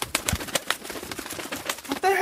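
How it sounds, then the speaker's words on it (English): Turtle doves cooing in a short series of soft, repeated calls with some fluttery rustling, heard at close range alongside other background noise. "That was the turtle doves."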